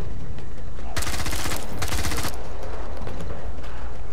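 Rapid automatic gunfire from the zombie video game Contagion, a loud dense burst of shots lasting about a second and a half mid-clip, with quieter background game noise before and after.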